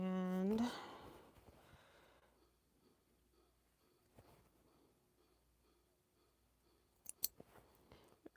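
Scissors snip through fabric while a quilt is being sewn: a couple of quick, sharp cuts come near the end, after a voice at the start and a long quiet stretch.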